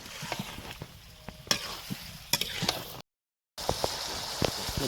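Cauliflower and potatoes frying and sizzling in a pan, a steady close crackle broken by sharp clicks and scrapes of stirring, with a short silent gap partway through.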